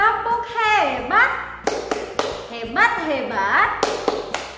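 Young kindergarten children chant in high voices during an online class, with a few sharp, scattered hand claps landing among the singing toward the end.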